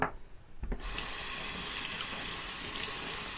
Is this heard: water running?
yes